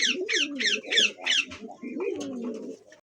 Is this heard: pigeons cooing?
yes